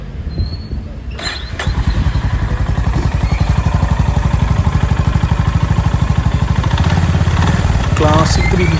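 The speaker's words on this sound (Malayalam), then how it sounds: "ഇനി നമുക്ക് വാഹനം ഒന്ന് സ്റ്റാർട്ട് ചെയ്തിട്ട് എൻജിൻ്റെ ശബ്ദം കൂടെ ഒന്ന് കേട്ട് നോക്കാം" A Honda CB 350 Highness motorcycle engine starts after a brief crank and settles into a loud, steady, thumping idle close by, its even pulsing beat running alone to the end.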